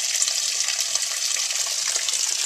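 Water drains from an open spigot on a home water system during winterization, a steady hissing gush running close and unbroken throughout, with no talking.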